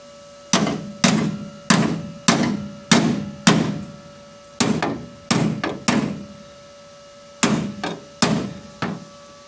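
Hammer blows shape the sheet-metal inner trunk corner of a 1957 Chevy, a close, loud series of sharp metallic strikes landing in uneven clusters with brief pauses between, no voices.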